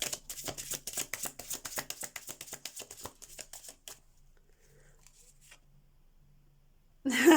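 Oracle cards being shuffled for a tarot reading, a rapid riffling flutter of many quick card slaps for about four seconds, then near silence with faint handling before a brief louder rustle at the end.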